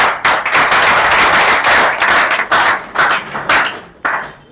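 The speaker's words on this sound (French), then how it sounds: "qu'on va applaudir très très fort pour eux" An audience applauds guests at a Congolese political campaign launch in Belgium, loud continuous clapping with sharp bursts that swell and fade in waves before trailing off near the end.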